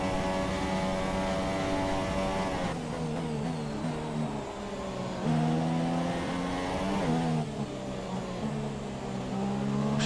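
A Formula 1 car races in F1 2017 at the British Grand Prix, its engine screaming loud and close, pitch dropping on downshifts and climbing again through gear changes, with faint commentary beneath.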